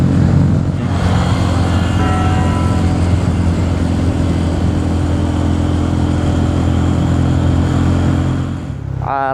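Honda CB150 motorcycle riding along a road on a long solo tour, its engine droning steadily and loudly with a constant hum and road rush throughout, close and continuous, fading slightly near the end.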